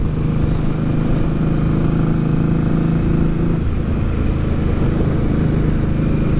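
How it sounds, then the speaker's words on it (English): Steady, full engine drone from an Indian Scout motorcycle's torquey V-twin while riding, chugging along at an even pace with road and wind noise, no gear changes, close and continuous throughout. "It's the benefits of that wonderful torquey V-twin. Just chugs through everything."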